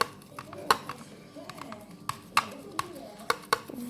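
Homemade play dough ingredients being mixed in a bowl, with a quick series of light clicks and taps from a utensil against the container over a soft background, near and fairly quiet.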